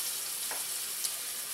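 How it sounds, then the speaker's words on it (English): Chicken pieces for a curry sizzling steadily in a hot pan, a continuous close frying hiss with a couple of brief louder spits and no talking. "now this is really sizzling"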